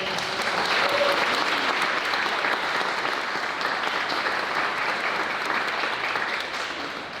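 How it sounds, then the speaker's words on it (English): Sustained applause from a gathered crowd at a military general officer promotion ceremony, many hands clapping steadily and evenly, tapering slightly toward the end. "So can we get a round of applause for everybody that helped us?"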